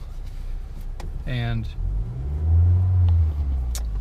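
A 2015 Honda Accord engine cranks over and catches, then settles into a rough, uneven low rumble that swells louder midway, with a voice speaking briefly near the start.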